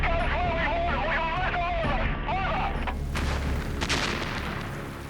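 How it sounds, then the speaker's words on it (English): Heavy artillery guns firing in archival Vietnam War footage near Nui Dat, deep booms rolling under a narrator's voice, with a louder blast late in the passage. "heavy guns 5 kilometres away at Nui Dat gave them supporting fire."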